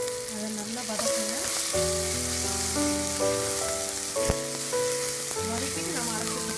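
Coriander powder sautéing in a pan for crab masala, a steady close sizzle and fry with occasional stirring, under background music and no talk.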